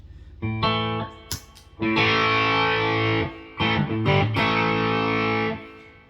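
A Gretsch 5420 TG-59 electric guitar plays through an overdrive pedal, with overdriven chords in several sustained bursts, a gritty, distorted tone and short gaps between strums.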